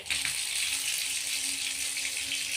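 Water runs steadily from a tap in a home with a cat nearby, a continuous bright hiss that stays even and close throughout.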